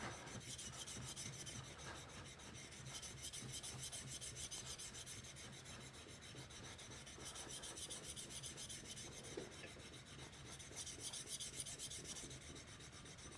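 Steel chisel rubbed back and forth on a sharpening stone to grind out marks toward the bevel, a continuous close rasping scrape with a steady rhythm and no speech.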